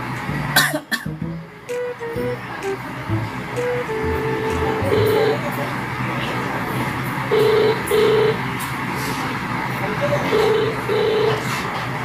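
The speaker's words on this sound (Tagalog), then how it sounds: "So, tawagan natin pinsan ko, si Maing from Valenzuela." Telephone keypad tones for a prank call, a series of short beeps in uneven bursts with brief pauses between groups. A cough and some handling noise come first, and the tones sound close and moderately loud.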